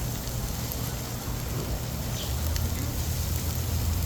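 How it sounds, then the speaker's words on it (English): Smash burgers sizzling on a Blackstone griddle at midnight, a steady dense hiss and crackle that runs unbroken throughout and grows slightly louder near the end. "Let's smash burgers at midnight."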